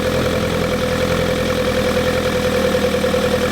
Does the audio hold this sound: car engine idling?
yes